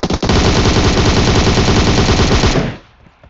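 Automatic gunfire in PUBG Mobile: a loud, sustained rapid burst of shots for about two and a half seconds, then cutting off into quiet.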